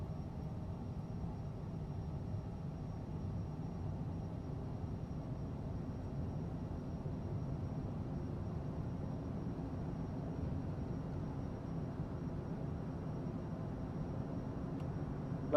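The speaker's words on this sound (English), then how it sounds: "runway takeoff." A small plane in a flight sim takes off from a dirt runway in Africa, its engine a steady, low, even drone that holds at constant loudness with no voices.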